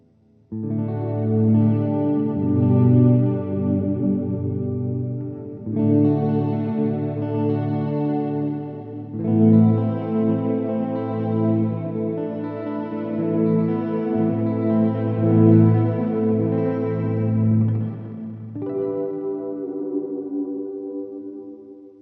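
An Ibanez RG3120F electric guitar on its humbucker pickup plays sustained chords with a warm, thick, slightly distorted tone and chorus-like shimmer, ringing loudly with no one speaking.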